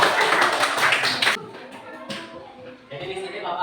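A school class claps for the teacher in a classroom: a dense burst of hand claps for just over a second, then talking follows.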